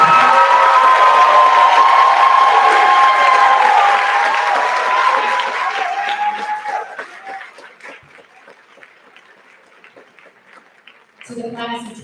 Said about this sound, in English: if we could give them the loudest round of applause.